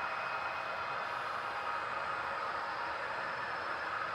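An eastbound Southern Pacific model freight train on a layout emerges from a tunnel as a steady, hissing rumble that holds an even level throughout, with no voices.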